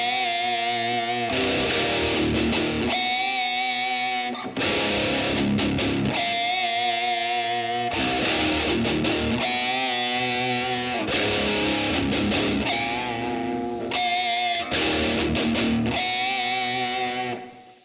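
A heavily distorted electric guitar plays a riff slowly, with sustained crunchy chords in repeating phrases broken by brief gaps, loud and alone.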